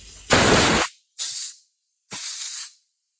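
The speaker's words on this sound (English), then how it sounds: "I'm going to blow some air here and clean this up some" Compressed air blows sawdust off a 1963-64 Homelite C7 chainsaw during a rebuild, in three short, close, loud hissing bursts with brief silences between them.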